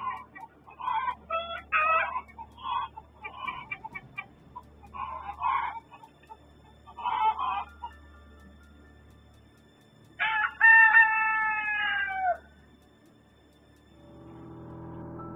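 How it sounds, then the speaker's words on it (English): A rooster crows loudly and repeatedly, with clucking fowl and other birds chattering in the background of an outdoor scene, before the calls stop into quiet. "Listen to the birds in the background before and while the figure appears."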